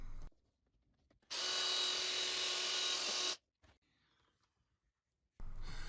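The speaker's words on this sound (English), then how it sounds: "I'm going to pre-drill holes in the plastic" A power drill whirs in one steady high-pitched burst lasting about two seconds, pre-drilling a hole in a plastic dryer lint trap, followed by quiet handling noises, then the drill starts up again at the end.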